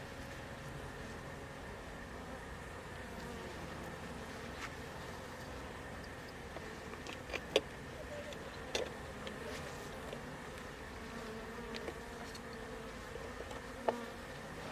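Honeybees buzz steadily inside an opened hive in woodland, a dense close hum with a trapped moth among them, broken by a few faint clicks and taps.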